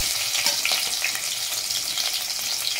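Onion frying in hot oil with fenugreek and cumin seeds, tempering for a Telangana-style fish curry, giving a steady, close, dense sizzle and crackle throughout with no voices.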